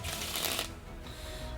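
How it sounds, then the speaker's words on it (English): A deck of playing cards being shuffled up close during a card trick, with a quick riffling flutter that fades into a softer rustle as the cards settle, heard alone. "We'll try a new V-style shuffle."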